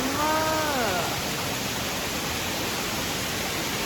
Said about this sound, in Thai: ตอนนี้นะคะเราอยู่ที่น้ำตกดอนป่าหวายนะคะ